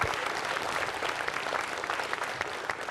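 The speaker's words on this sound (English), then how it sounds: "a big round of applause to all of you up there for everything" Convention panel audience clapping for the panelists, a dense, even burst of applause from a crowd filling the room, steady throughout with no voices standing out.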